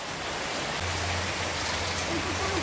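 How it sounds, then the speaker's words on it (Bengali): Heavy rain pours steadily in North Bengal's Dooars at a resort near Dalgaon and the Murti River during the rainy season, a dense even hiss throughout with a low hum joining partway. "আর আজকে মুষলধারে বৃষ্টি পড়ছে।"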